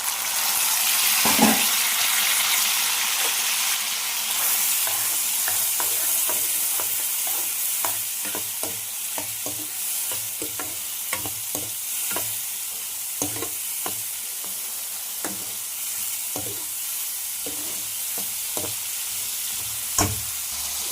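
Ginger garlic paste and tomato fry in a pan with a continuous hiss and sizzle, while a spoon scrapes and taps through the mixture in frequent uneven strokes, close and steady throughout.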